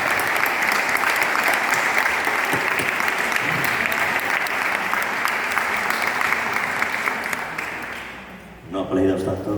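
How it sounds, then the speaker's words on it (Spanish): Sustained audience applause at a yoga congress, a dense wash of clapping that stays loud for about eight seconds before thinning out near the end. "No aplaudáis tanto que todavía no he dicho nada."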